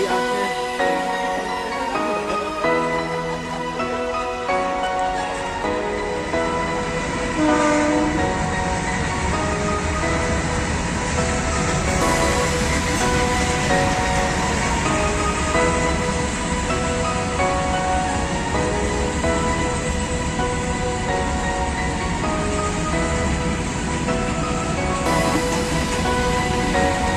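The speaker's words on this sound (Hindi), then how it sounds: "इधर रेलगाड़ी आके है" A train arrives at a village during a wedding procession's journey: a loud, continuous rumble with sustained tonal whining and shifting pitches that runs steadily throughout.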